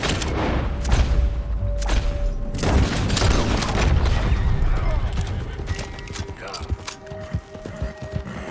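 Gunfire rings out in Red Dead Redemption 2, a volley of loud shots and booms clustered early, then scattered sharper cracks over steady outdoor ambience with horse hooves and mixed game sounds; no talk.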